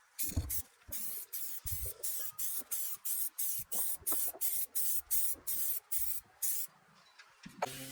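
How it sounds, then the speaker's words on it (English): A spray can of clear coat hisses in a rapid series of short, even bursts, about a dozen quick passes close by, with brief gaps between each. "I'm spraying that clear on"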